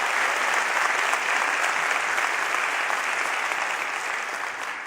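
A concert audience applauds steadily, a dense, even wash of clapping that holds for several seconds and tapers slightly at the end.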